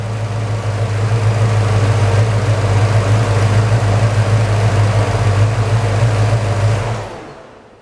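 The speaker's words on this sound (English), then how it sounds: "when I turn this engine off, that fan should almost stop immediately" A car engine running steadily at idle, then switched off around the seventh second, with the roar fading out as the engine-driven fan, which has a failing fan clutch, spins down over several revolutions.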